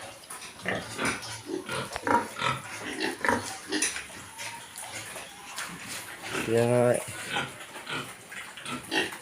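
Piglets about five weeks old on a farm give a short burst of close grunts in the middle of steady talk, with someone speaking throughout over the animals.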